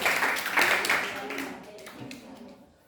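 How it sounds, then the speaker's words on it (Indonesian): A small group claps for a presentation team in a classroom, a short burst of applause that quickly fades, with a voice speaking over it. "Tepuk tangan dulu untuk kelompok ini."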